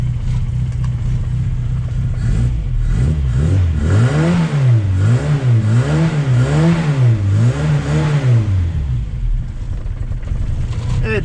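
A classic Mini car engine revs up and down in a steady wavering rhythm while warming up with the choke on, loud and close, after a steady idle.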